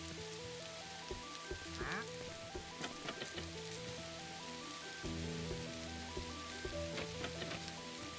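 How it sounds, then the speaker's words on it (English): Steady rain hisses in a Minecraft-style jungle world, a continuous soft patter on surfaces with layered game music tones running beneath, no talking. "now it's raining"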